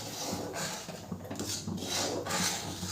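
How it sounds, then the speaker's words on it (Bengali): A spatula scrapes and rubs around a pan as toasted rice flour is stirred into milk over a low flame for patishapta, a continuous close scraping in repeated strokes. "আর খুন্তির সাহায্যে মেশাবো"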